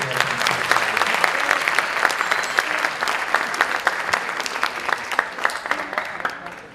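Audience applause fills a Turkish municipal event in Ataşehir as a crowd greets visiting Hababam Sınıfı actors, sustained dense clapping with sharp individual claps standing out, steady and loud throughout.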